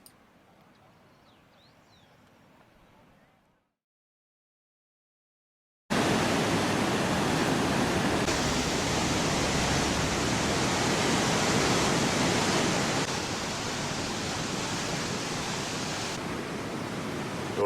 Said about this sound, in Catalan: El riu baixa amb molta alegria.